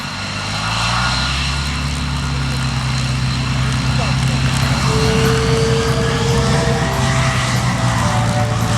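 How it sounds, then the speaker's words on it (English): USAF F-22 jet taxiing on the taxiway at the Cold Lake Air Show, a steady loud engine roar and whine held throughout, with a rising tone near the middle, under a commentator's voice. "now let's give a wave to our F-22 as he just circles around there on the taxiway"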